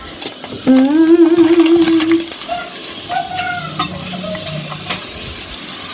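Onions frying in oil in a pan while cooking keema, a steady close sizzle with some stirring clatter, mixed with brief squeaky tonal sounds near the start.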